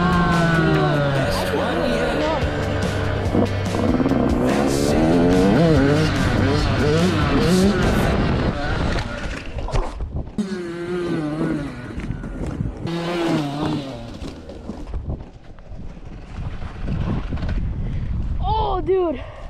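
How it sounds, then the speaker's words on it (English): A Yamaha YZ85 dirt bike engine revs hard and bogs during a wheelie attempt, loud and close with rising and falling pitch. Wind buffets the microphone, and the engine cuts out before restarting. "Today I'm going to be trying to learn how to wheelie my YZ85 dirt bike"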